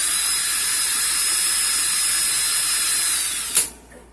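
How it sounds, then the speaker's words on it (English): A power drill in reverse spins a wire coil core at high speed in a steady, loud whine, then abruptly cuts off and winds down near the end. "put my drill in reverse,"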